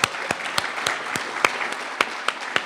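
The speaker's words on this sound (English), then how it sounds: "I want to just initiate a big round of applause for all the hard work that Sunlight does" An audience clapping, with sparse, distinct claps at an uneven rhythm, a few hands heard close and clear rather than a dense roar.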